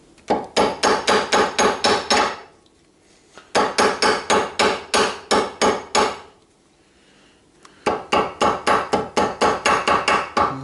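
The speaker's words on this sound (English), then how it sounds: "try to get in the corners with the corners of your hammer" A hammer tapping paper against a surface to cut out a gasket, three rapid bursts of sharp, close, evenly spaced taps separated by brief pauses.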